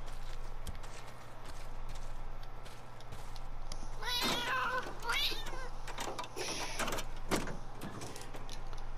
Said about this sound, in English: They'll just randomly meow like that.